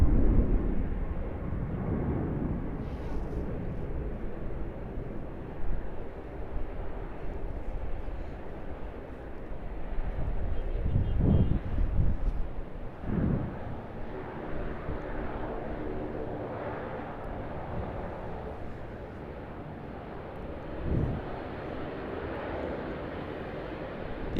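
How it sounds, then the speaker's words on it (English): A Virgin Australia Boeing 737-800 takes off down runway 25 at Sydney Airport, its engines a steady, distant broadband roar that holds for a long stretch, with a few brief louder swells and no talk. "Virgin Australia, a Boeing 737-800, speeding down runway"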